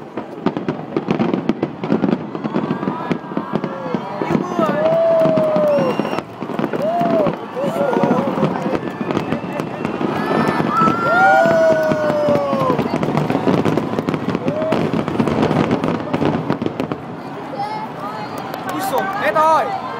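Fireworks burst in the night sky at a public display, a dense run of cracks and booms under a busy crowd, with people chattering nearby throughout.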